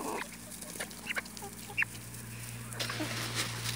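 Ducks and chicks clucking and quacking softly while being hand-fed, several short scattered calls over a steady low hum, fairly close, no speech.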